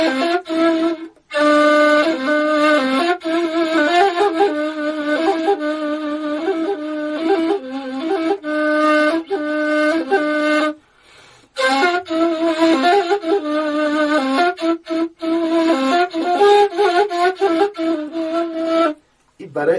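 A ney flute plays the natural note in Shur mode, a breathy sustained melodic line of repeated held tones with brief breaths between phrases, close and clear.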